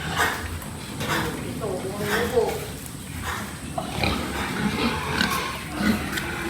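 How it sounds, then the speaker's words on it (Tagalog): Young female pigs (F1 crossbred gilts) in a pen on an overcast morning grunt and oink softly now and then, someone talking over them throughout. "ito yung mga gilts na namin"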